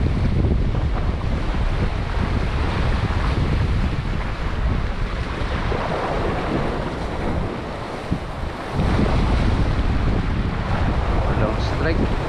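Sea water moves at low tide along a shore in Palawan, Philippines, a steady rush of surf washing continuously, heavily mixed with wind buffeting the microphone.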